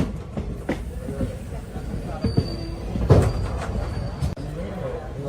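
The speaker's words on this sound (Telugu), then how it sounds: "By by Guntur junction. On time బయలుదేరింది బండి ఈరోజు." Indian passenger train pulling out of Guntur Junction, heard from on board: a steady rumble of rolling carriages with occasional wheel clunks and a brief squeal, while someone talks over it.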